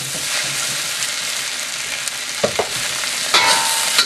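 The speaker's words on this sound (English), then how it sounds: "Vegetable in. Stir fry for a minute or two." Vegetables and pork are stir-fried in a pan with sherry cooking wine, giving a close, constant sizzle with a few sharp stirring clatters toward the end and no speech.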